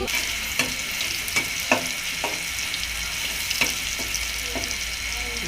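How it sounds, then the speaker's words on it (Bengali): Onions frying in oil, browning before dried fish is added, a steady close sizzle with intermittent stirring scrapes and clicks. "পেঁয়াজটা আরও লাল করে ভেজে নেবে।"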